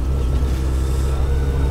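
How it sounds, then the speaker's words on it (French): A car passes a motorcycle riding at about 40 km/h with an open visor on a windy day, a steady roar of engine and wind noise with no talk over it. "Ah, jolie voiture."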